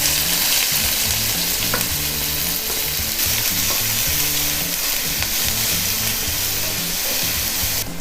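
Onions frying in hot oil with popped mustard seeds, urad dal and fennel for a white peas sundal, a loud continuous sizzle with stirring scrapes throughout.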